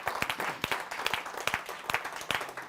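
Applause greets a poet taking the stage at a poetry gathering. A fairly quiet, sparse group claps in distinct, evenly spaced bursts that form a loose rhythm.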